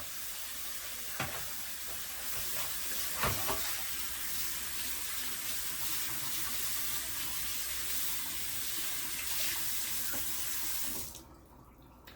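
Tap water runs steadily onto a cast iron skillet while it is scrubbed with a rough sponge, a close, even splashing hiss that continues for most of the clip before cutting off near the end.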